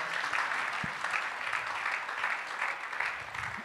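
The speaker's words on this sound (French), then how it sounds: "Est-ce que nous pouvons nous acclamer pour les grands travaux?" Audience at a married couples' gathering applauding steadily, a dense crowd of clapping hands heard from nearby.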